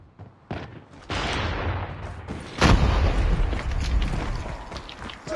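Grenade blast and gunfire in a first-person shooter search-and-destroy match: rapid bursts of shots, then a loud booming explosion followed by continued dense firing and rumble, fairly close and intense.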